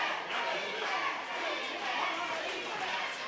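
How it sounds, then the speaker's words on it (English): A wrestling arena crowd roars and yells continuously, a dense, steady wash of cheering voices with no clear breaks. "Crowd is really getting behind TJ Kemp right now."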